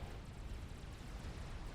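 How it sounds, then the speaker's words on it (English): Explosions from a real-time strategy video game battle involving artillery and a commander unit merge into a dense, loud, continuous rumbling roar with overlapping bursts, heard alone without talk. "Grimplex is moving his ACU away from the explosions"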